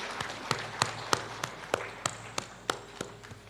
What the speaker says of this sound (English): can we once more just give a round of applause for these young people?